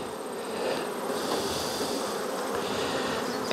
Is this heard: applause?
no